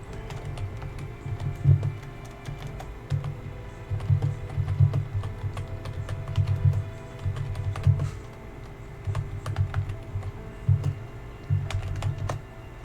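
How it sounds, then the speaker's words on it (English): Close, steady typing on a computer keyboard, entering a chat message: dense clusters of soft key clicks in short bursts separated by brief pauses, with a faint hum underneath and no talking. "I'm just gonna type it in the chat."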